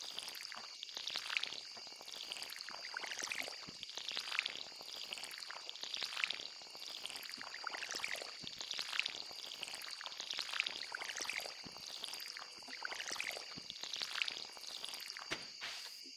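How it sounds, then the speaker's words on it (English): Watering crops in Stardew Valley: a steady run of soft splashing pours repeats every second or so over a constant hissing game ambience, moderately quiet with no talk. "Now I just need to water them before heading to bed."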